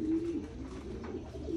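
A pigeon coos softly in a low, rolling murmur, repeating steadily throughout.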